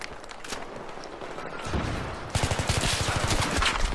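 SKS rifle gunfire in a video game, a fairly faint stream of rapid, repeated shots that grows denser and louder in the second half, heard against a noisy background with no talk.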